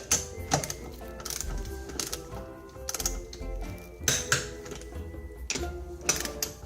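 A torque wrench tightening tire lug bolts during a seasonal tire change, giving a series of sharp mechanical clicks and ratcheting taps in an irregular rhythm, close and fairly loud.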